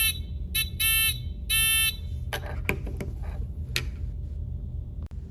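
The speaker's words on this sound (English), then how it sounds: "the students will use the black wire to make the buzzer sound" Buzzer in a student electric circuit kit giving three harsh electronic buzzes, short then longer, over a low hum, followed by clicks and taps of wires being connected.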